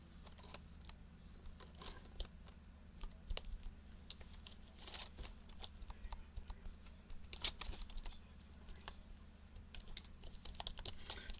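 Fast clicking from typing on a computer keyboard, in irregular bursts of keystrokes that continue throughout, close but fairly quiet over a low steady hum.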